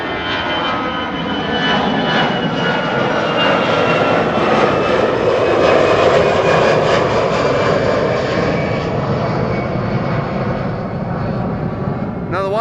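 A narrow-body jet climbing out from Amsterdam Schiphol on a flight to Dublin roars continuously overhead, a loud broad engine rumble with a whining tone, already high as it passes.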